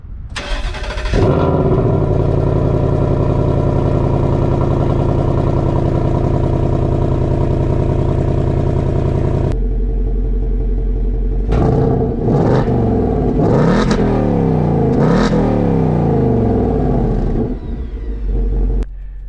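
A 2024 Ford Mustang GT with a 10-speed automatic roars loudly through a 0-60 run, its V8 revving steadily upward, then dropping as the transmission makes a series of quick upshifts, heard up close with no talking.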